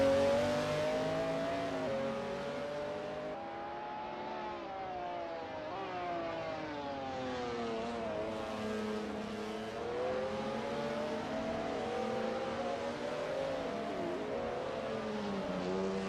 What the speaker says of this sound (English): Lekmansky is getting to grips with the ASRL McLaren F1 GTR in this practice session